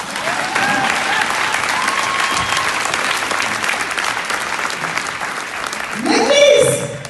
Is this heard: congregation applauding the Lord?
yes